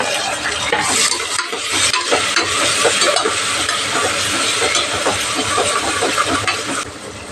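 Tomato and onion frying in a pan for a veg kurma, stirred steadily with a utensil; a dense, continuous sizzle with frequent scraping clicks runs loud and close throughout, with no talk.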